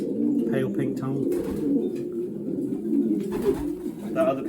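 A racing pigeon coos in low, throaty rumbles while being handled up close, the cooing continuing steadily, with soft handling noise and a voice speaking nearby.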